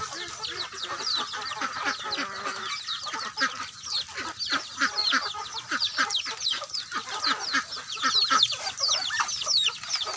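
A busy flock of chickens and ducks clucks, quacks and honks nonstop at close range while feeding, overlapping calls forming a noisy, chattering jumble.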